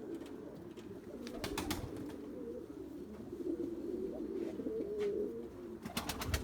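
White pigeons coo in a soft, steady, low murmur close by, broken by several sharp bursts of wing flapping as the birds take off and fly.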